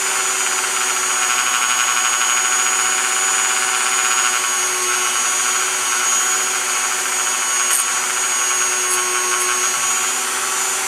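A power tool polishes the internal parts of a Glock 20 SF, giving off a steady high-pitched motor whine with a constant tonal hum, close and continuous with no talking.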